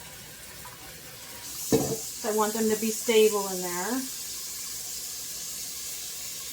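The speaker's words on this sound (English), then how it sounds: "So I'm going to fill up these little jars that don't have anything in there with water first." Hot tap water runs into small empty glass jars, a soft, steady rushing hiss that continues under a person talking close by.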